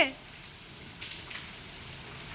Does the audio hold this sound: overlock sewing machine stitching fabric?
no